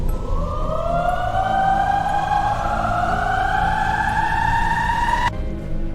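A civil defense style siren wails in a slowly rising sweep at night, loud and sustained for several seconds with no voices, then stops abruptly, leaving a faint tail.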